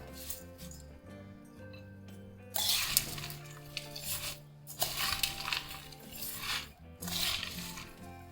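Crushed Kerala spicy mixture snack being stirred in a bowl, with dry crunchy rattling and clinking in several loud bursts between quieter pauses, over a faint steady background tone.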